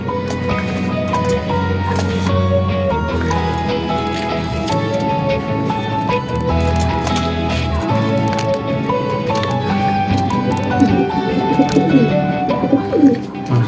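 Pigeons coo steadily while baby pigeons are hand-fed, wet squishing and gulping sounds running throughout, close and fairly loud, with no pauses.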